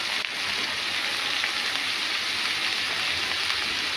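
Cabbage frying in a pan while it is stirred, with a steady, close, dense sizzle that hardly changes and no voices.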